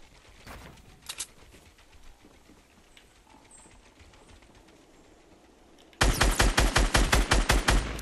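Heavy shotgun in Fortnite Battle Royale firing a rapid, loud burst of about ten booming shots in the final two seconds, after a quieter stretch of distant gunfire pops and ambient game noise.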